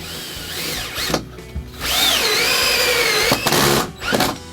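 Power drill driving screws into loft ladder battens, in several bursts of rising and falling motor whine with short pauses between them, close and fairly loud.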